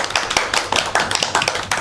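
A small classroom group claps for a student, a short burst of close, sharp hand claps in an uneven rhythm with no talking.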